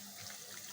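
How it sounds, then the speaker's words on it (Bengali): Water poured into a pan of frying spices (ground turmeric, chili, coriander, cumin and salt) for a chicken curry, heard as a brief, faint pouring splash. "দিয়ে দিব পানি।"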